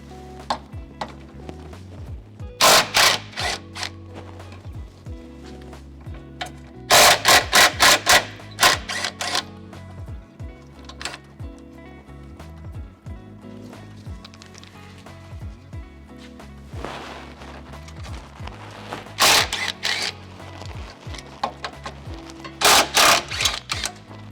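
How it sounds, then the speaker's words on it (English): A 12mm socket on a ratchet works the sway bar brackets loose from a Mazda Miata chassis, giving bursts of rapid metallic clicking separated by quieter gaps with small clinks of tools and parts. "remove the brackets that hold the sway bar to the chassis. I'll remove those using a 12mm socket"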